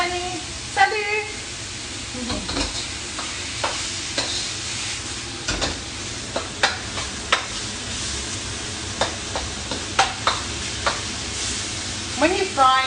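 Minced pork sizzles steadily in a pan for mapo tofu, a constant crackling hiss broken by scraping stirs of a utensil, with a voice talking over the cooking now and then.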